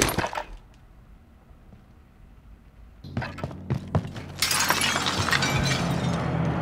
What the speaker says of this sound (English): smash glass